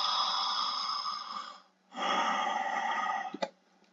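A noisy, hissing breath sound made as a singing exercise runs for about a second and a half, stops briefly, then resumes with a short catch near the end, close and fairly loud.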